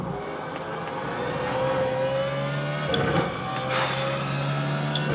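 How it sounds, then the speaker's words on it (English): BMW Z4 GT3 race car engine in iRacing at Circuit of the Americas, a steady mid-pitched engine drone with rising revs and brief shifts, continuous and fairly close, with no talk. "BMW Z4 GT3 at Circuit of the Americas."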